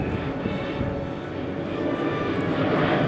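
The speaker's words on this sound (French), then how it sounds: "c'est un avion qui tient compte des nécessités de faire moins de bruit." An Airbus A380 airliner's engines give a steady, loud broadband roar that holds evenly throughout with no talk over it.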